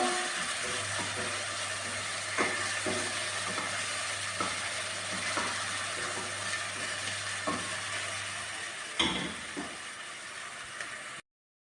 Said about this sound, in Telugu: అల్లం తెల్లగడ్డ వేగిపోయిందండి